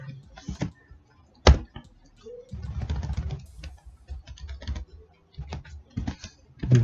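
Code being typed on a computer keyboard: close, crisp key clicks in short irregular bursts with brief pauses between, moderately loud and heard alone without speech.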